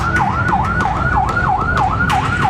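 Fire engine siren at a cake shop fire, a rapid repeating wail cycling about seven times, loud and close over rumbling traffic noise.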